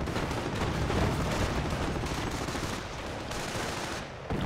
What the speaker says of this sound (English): Registered artillery on the southern munitions point.